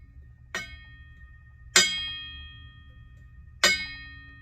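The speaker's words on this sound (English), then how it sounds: "the striker is striking the bell, but it's also pressing against it, so the bell don't have the resonance" Boxing bell hit three times by a striker that stays pressed against it, each clang short and deadened with only a brief ring, spaced about a second apart in a quiet room.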